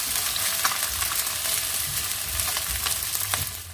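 Onion and garlic spice paste sautés in a hot pan with a steady, dense sizzle, broken by light stirring scrapes, close and continuous with no voices.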